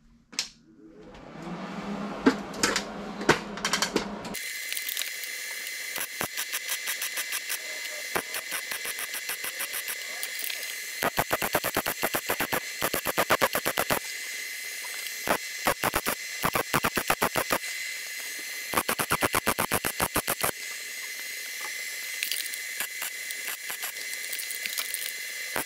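Stitch welding a patch panel into a K5 Blazer body, heard as loud, crackling bursts of welding arc separated by short pauses, repeating in several clusters through the clip with no talk.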